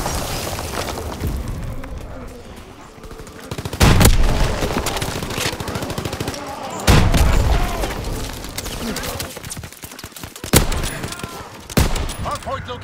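Grenade blasts and gunfire in the World War II shooter Call of Duty: WWII, with several heavy booming bursts at intervals over a steady rumble of battle noise and scattered shots.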